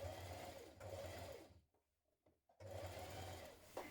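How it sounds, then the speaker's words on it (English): A sewing machine stitches stretch fabric with a ballpoint needle, a loud close mechanical whir running in two bursts separated by a brief quiet pause. "you're just sewing close to it from the outside"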